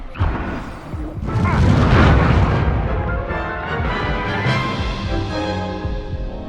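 The Incendio fire spell going off in Hogwarts Legacy, a heavy booming blast that swells into a roaring burst of flame and then tails off into a ringing, crackling decay, loud and close, with no talk over it.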